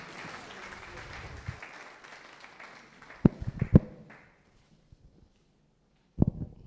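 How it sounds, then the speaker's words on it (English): Applause from an audience for a speaker at a police command event, building and thinning over the first few seconds, followed by a few loud close taps and knocks, silence, then a brief burst of claps at the end. "Please put your hands together for him again. I will clap for him."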